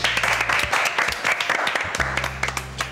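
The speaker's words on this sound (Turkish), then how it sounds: "Alkış." Short burst of clapping from a small group, with distinct individual hand claps audible, set in a casual indoor scene with a low hum in the background.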